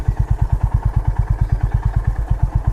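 A motorcycle engine idles close by with a steady, rapid thumping putter, loud and even throughout.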